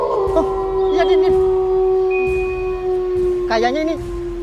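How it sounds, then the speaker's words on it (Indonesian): A wolf howls in a drawn-out, wavering call that rises and falls, repeating twice with a sustained tone underneath, set against a dark, tense backdrop. "Kayaknya ini suara serigala tuh, Din."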